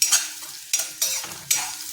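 Dry red chili and garlic fry in hot oil for a Konkani jackfruit bhaji, a close, bright sizzle broken by a few quick stirring scrapes of a spoon in the pan.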